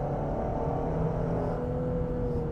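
A Genesis GV70 SUV with a 3.5 liter twin turbo engine, running as a steady, fairly loud hum for a few seconds with no speech over it.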